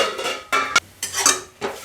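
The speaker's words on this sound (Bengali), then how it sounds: "এই শাকটাকে আমি এখন ঢেকে দেবো" A metal lid set over a pan of greens on the stove gives a few close clattering knocks and scrapes of metal on metal, with short bursts spaced across the moment and no voices.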